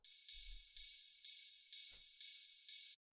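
A ride cymbal layer in a Detroit house beat plays steady eighth notes, six even washy strikes with slight accents, heard alone with a couple of faint low thumps underneath.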